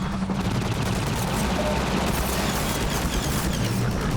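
Enemy soldiers firing guns in Half-Life 2, a loud, sustained barrage of overlapping gunshots and booms filling the whole stretch with no pauses.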